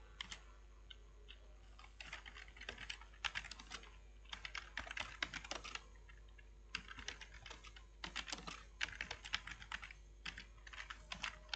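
Code being typed on a computer keyboard, steady bursts of close, crisp keystrokes with short pauses between runs, no voice.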